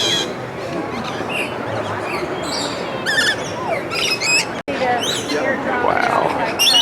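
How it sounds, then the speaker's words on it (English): Chirpy birds in a Busch Gardens aviary call and tweet constantly in bright, overlapping bursts with occasional squawks, heard close over a steady background bustle. "Such pretty birds. Very chirpy too."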